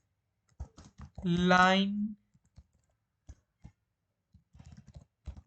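Scattered clicks of a computer keyboard come as JavaScript comments are typed, a few quiet taps spread out with a short burst of speech in between.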